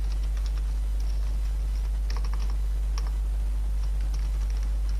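Clicky keystrokes on a computer keyboard come in short irregular bursts with brief pauses, close and clear over a constant low hum.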